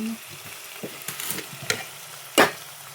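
Vegetables fry in hot oil with asafoetida and turmeric for a gunda dish, a soft steady sizzle broken by a few sharp stirring scrapes, one louder clatter late on.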